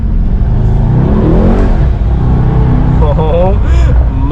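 A Mercedes E63 S AMG accelerating hard with little traction, its engine roaring loud and close from inside the cabin, pitch climbing through the rev range with a quick shift near the end.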